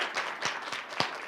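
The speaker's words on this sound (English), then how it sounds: "just maybe one more round of applause" Audience at a Holocaust Remembrance Day event gives a brief round of light applause, a few scattered claps standing out distinctly within a soft, steady patter.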